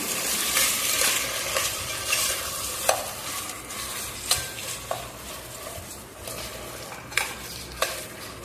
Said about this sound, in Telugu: అంతా ఒకసారి బాగా కలపాలి